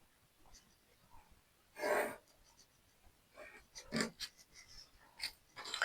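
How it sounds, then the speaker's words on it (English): A pen or marker scratches a line down a pants pattern on paper to mark the front dart, faint rustling strokes in short bursts with a couple of louder scrapes, close and quiet. "Our front dart, you just draw a line down."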